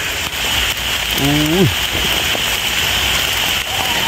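Heavy rain pours steadily in a close, dense patter, and a voice cuts in partway with a short rising exclamation.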